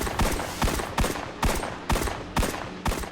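Zeal Vector weapon in Destiny: Rise of Iron firing seven sharp, evenly spaced shots at a steady rhythm, each loud crack followed by a short decaying tail, heard alone.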